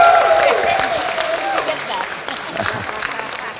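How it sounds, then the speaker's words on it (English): An audience at a conference closing plenary gives a round of applause that starts loud and gradually fades, with a voice speaking over it. "So, big louder applause for the drafting committee."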